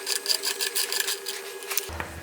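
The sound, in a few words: Fox 32 mm tool loosening air spring nut on Fox 38 fork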